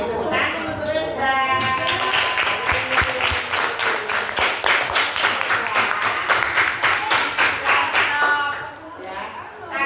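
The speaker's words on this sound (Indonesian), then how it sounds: "Tepuk tangan untuk Reza." A sixth-grade classroom of children clapping for a classmate, rhythmic unison claps in a fast steady beat lasting several seconds, loud and close, then tapering off near the end.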